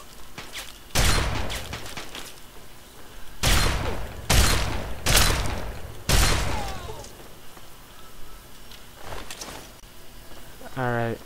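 Combat shotgun fire in the video game Fallout 3, several loud booming blasts spaced a second or two apart, followed by mechanical clicks and a brief rattling reload near the end.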